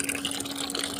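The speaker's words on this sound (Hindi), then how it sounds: "इसी के अनुसार हम 1 बाल्टी पानी इसमें मिला लेंगे" Water pours steadily into a bucket of homemade fertilizer, a continuous close gushing and splashing with a faint underlying hum.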